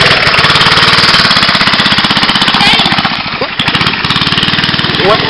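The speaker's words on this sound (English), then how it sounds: "I just don't want to blow up the engine." A small go-kart engine runs steadily and loud throughout, its rapid pulsing putter close by, with people talking faintly underneath.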